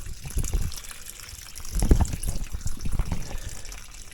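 Water drains steadily from an old 40-gallon electric water heater tank, a continuous low gush and trickle with a swell in flow midway, fairly close and with no talking.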